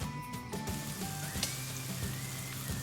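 Chopped ginger sizzling in hot ghee, a soft, steady crackling fizz close by with faint tonal hums and a few brief clicks over it.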